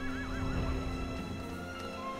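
In the Shadow of the Colossus video game, a horse gives a wavering, high whinny over a steady bed of game ambience, with hoof clip-clops mixed in.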